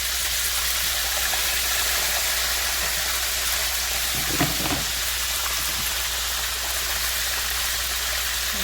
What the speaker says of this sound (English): They're frying up really nicely.